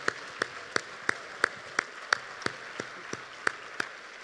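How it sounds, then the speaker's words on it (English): A single person clapping slowly and steadily, about a dozen sharp claps at an even rhythm, faint against a quiet room at a charity gala. "Please give them all a great big round of applause"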